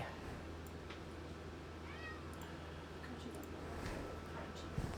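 A hungry pet cat meows near a home craft desk, one short faint meow midway through over a low steady room hum, with no talk.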